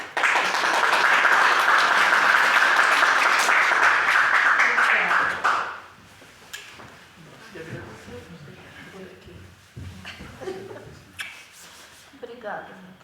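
Audience applause after a spiritist lecture, loud and dense for about six seconds, then cutting off into quieter room sounds with scattered talk.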